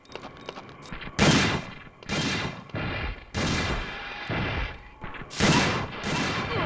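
Video game gunfire from Dino Crisis 2 comes in loud, repeated bursts of shots with short gaps between volleys, playing alone without talk.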